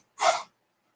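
Single short sneeze, breathy and close, in an otherwise silent moment.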